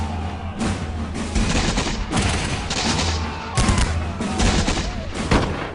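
Musket volleys in a Revolutionary War battle reenactment at the Waxhaws, with repeated bursts of close, loud gunfire and rumbling booms filling the whole stretch in overlapping waves.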